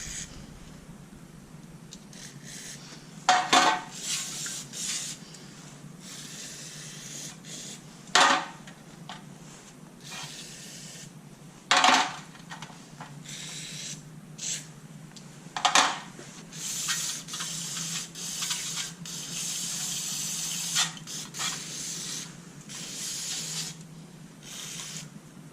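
Brake cleaner sprayed into engine pushrod lifters in a workshop, a series of short sharp aerosol bursts, several of them spaced a few seconds apart, close and loud over a low steady background.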